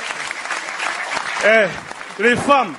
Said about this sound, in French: Applaudissez-vous, les femmes, vous êtes trop fortes.